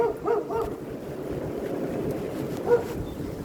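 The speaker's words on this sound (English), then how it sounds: "It's really windy today." Steady wind buffets the microphone with a low, rumbling roar throughout, and a couple of brief higher sounds poke through.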